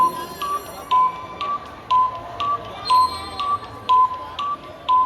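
A timer alarm in a Chowking dessert shop in Cebu beeps steadily in short repeated pairs, about twice per second, loud and close, with faint background noise between beeps.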